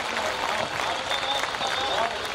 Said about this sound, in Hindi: एक बार फिर दोबारा तालियां बजाइए बच्चे के लिए